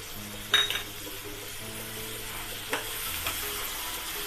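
A bowl of curd is added to frying vegetable biryani masala, opening with a clink of a utensil, then a steady close sizzle with light stirring scrapes throughout.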